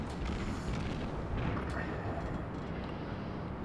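Warship guns fire in the naval combat game World of Warships, a dense, rumbling roar of heavy booms that blur into one continuous wall of low noise, loud and sustained with no talk over it.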